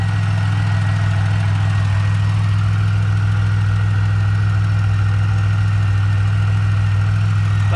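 A supercharged L67 engine in a Pontiac Bonneville SSEi idles steadily with a strong low drone and a faint rhythmic ticking from the valvetrain, close and constant with no talk.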